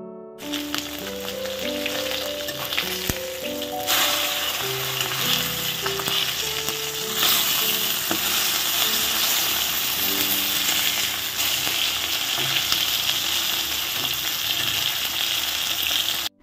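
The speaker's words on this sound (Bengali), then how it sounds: "মাছটা দেখতেই পাচ্ছেন তেলে ছেড়ে দিয়েছি" Fish fries in hot oil in a home kitchen pan, producing a continuous dense sizzle and crackle up close, with tonal background music playing over it and no voice.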